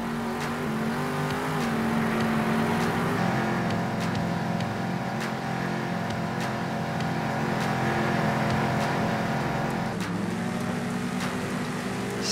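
A monster truck engine revs in the Monster Jam: Steel Titans video game, a loud, steady roar that holds for the whole stretch, with sharp clicks and a brief dip near the end.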